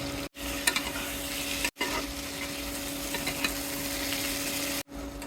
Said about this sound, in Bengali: দিয়ে দেবো টমেটো, সামান্য একটু জিরা বাটা, মরিচ বাটা, একেবারে মশলাগুলি দিয়ে এখন কষিয়ে নেব।